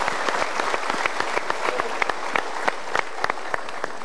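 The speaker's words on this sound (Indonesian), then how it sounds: "sementara kita berikan tepuk tangan dulu" A studio audience at a motivational talk show claps together, an energetic, continuous patter of many hands with sharper individual claps popping out throughout.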